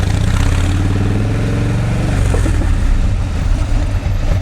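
A motorcycle engine running close by, a loud continuous rumble with a steady low throb that shifts slightly in pitch about halfway through, with no voices.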